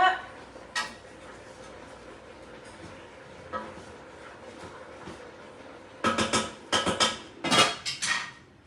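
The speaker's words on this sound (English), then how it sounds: "Stirring it up." Food being stirred in a pot with cabbage, producing sparse metallic clinks and scrapes that turn into a quick burst of utensil knocks against the pot toward the end, heard close and fairly quiet.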